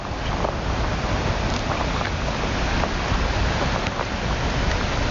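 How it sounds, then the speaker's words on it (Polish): Meltwater runs down from a glacier in Norway as a steady, dense rushing wash that holds an even level throughout, with some wind noise mixed in. "i spływa woda i tu też spływa"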